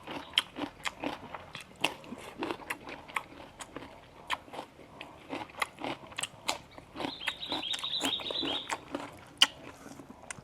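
Close, crisp crunching and biting on chicken bones in a spicy Thai stir-fry, with a steady run of sharp chewing snaps and a faint high tone partway through. Nobody speaks.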